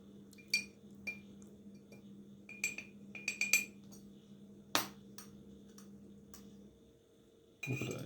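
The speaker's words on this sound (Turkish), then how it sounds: "Aynı şekilde bir tatlı kaşığı kahve atıyoruz." A dessert spoon of coffee grounds drops into a glass, followed by a few scattered light clinks of spoon against glass, with a low steady hum underneath and a louder rustle near the end.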